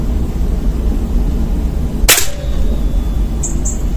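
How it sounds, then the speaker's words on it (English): A Beeman air rifle fitted with a shroud and silencer fires a single sharp, snappy shot midway through, with a faint ringing tail and quiet outdoor ambience around it. "Okay, so that's the first shot."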